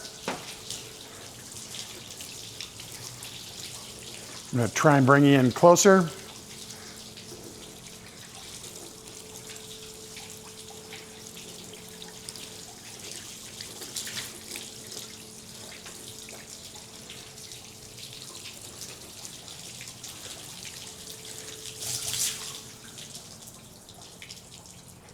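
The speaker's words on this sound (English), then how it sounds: "We'll get that flooded panel with water and have it saturated." Steady running water splashes and trickles over a flooded car panel throughout, with a short burst of louder noise early on and a voice speaking briefly.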